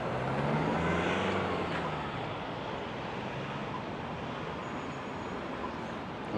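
Vehicles pass along a town street in Innisfail, a steady broadband road roar that is loudest at the start and then holds as a constant wash of tyre and engine noise with no talk.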